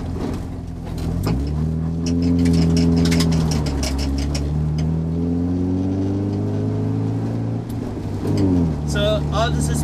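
Nissan 240SX cruising along a hill country road, engine humming with pitch rising and falling through gear changes, steady and close inside the cabin while people talk over it.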